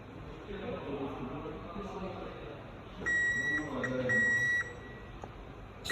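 A digital multimeter gives a steady continuity beep while its probes test the emitter and base pins of a BJT transistor, sounding in bursts over the second half, loud over ongoing talk and room noise.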